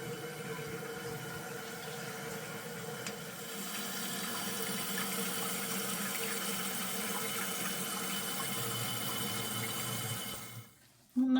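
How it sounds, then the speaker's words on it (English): Toilet tank refilling after the water supply is turned back on, following a fill valve and flapper replacement: a steady, close rush and hiss of running water that holds for about ten seconds, then cuts off abruptly. "We're going to turn the water back on and see if it leaks."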